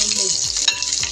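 Shallots and crushed garlic fry in hot oil while being stirred, a dense continuous sizzle broken by rhythmic scraping strokes of the spoon.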